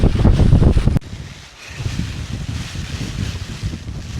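Wind gusting through a windy rainstorm at a wild campsite in Scotland, roaring and buffeting the microphone close up, louder at first, then settling into steady rushing noise.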